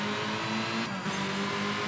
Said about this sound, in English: this rally car, it does feel pretty similar to what they had in the WRC games